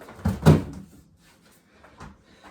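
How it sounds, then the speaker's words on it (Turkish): A wooden drawer slides and thuds open nearby in one quick motion, followed by quieter rustling and light knocks. "Çekeceksin çekmeceyi."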